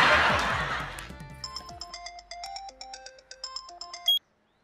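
A telephone ringtone plays a bright, beeping electronic melody of quick separate notes for about three seconds, following a burst of rough noise, then stops abruptly.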